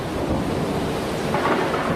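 A thunderstorm with steady heavy rain and a low rumble of thunder, loud and continuous throughout, with no voices.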